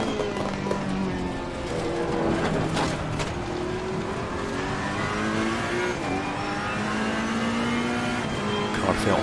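A race car at Zandvoort in Assetto Corsa Competizione, its engine droning and shifting pitch steadily through a fast sweeping section, loud and continuous with a few sharp crackles.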